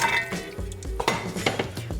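Meat for a beef daube tipped into a pot, with close clattering and scraping of metal on cookware and a soft sizzle in several quick bursts over a couple of seconds.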